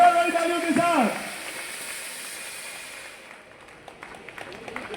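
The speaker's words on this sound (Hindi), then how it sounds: "क्या बात है, तालियों में बड़ी जोरदार वाली तालियों के साथ" A voice speaks briefly, then a burst of audience clapping rises at a Massey tractor farmers' gathering in Azamgarh, holding for a couple of seconds before thinning out and fading into quiet background murmur.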